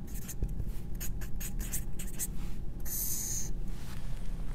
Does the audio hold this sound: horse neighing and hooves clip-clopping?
no